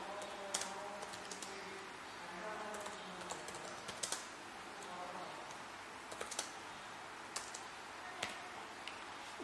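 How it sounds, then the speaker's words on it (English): Typing on the keyboard of a Lenovo ThinkPad T490 laptop, a quiet, steady run of soft key clicks with a few sharper taps, close to the microphone in a quiet room. "I'll show you the typing speed of this."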